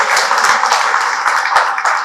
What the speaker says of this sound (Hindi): हमें लगता है सबका मन कर रहा है तालियों से अपने मन के हर्ष को पहुंचाया जाए।